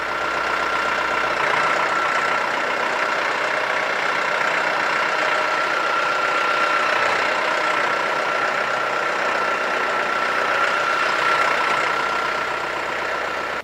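A Yanmar YN series four-wheel-drive tractor creeps in L1 gear without the clutch pressed. Its engine drones steadily and close at a constant idle-like pitch throughout, with no talking.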